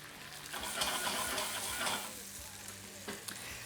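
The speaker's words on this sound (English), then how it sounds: "now we're starting to get a nice bit of colour on the meat. We're going to go in with a little bit of tomato passata" Meat frying in a pan with tomato passata being stirred in makes a loud close sizzle, with scraping strokes of a spoon and bursts of hiss rising and easing as the sauce hits the hot pan.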